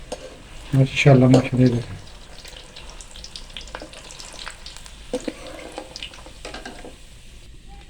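Potato slice pakoras fry in hot oil with a steady crackling sizzle that runs throughout. Brief stirring or lifting noises come early on, and a person speaks briefly near the start.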